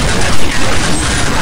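Gunfire in the online shooter game Counter-Strike Online (CSO), a dense, loud, continuous barrage of rapid shots filling the whole moment without talk.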